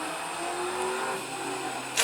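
A Saab 900 four-cylinder engine revs up, its mid-range roar rising steadily and held loud and close throughout, with a sharp burst at the very end.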